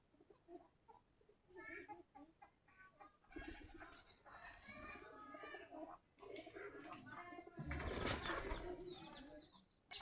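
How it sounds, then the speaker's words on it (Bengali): Giribaz pigeons at their coop, a flock of about forty pairs with young, cooing softly in low murmurs while wings flap in bursts, close and fairly quiet, with a person's voice speaking over parts of it. "আমাদের মোটামুটি 40 জোড়ার মতো কবুতর আছে।"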